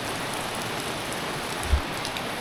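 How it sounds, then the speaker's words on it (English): Steady rain drumming on a barn roof, heard from inside the barn as a continuous even hiss with one brief low thump partway through. "Rain in here now."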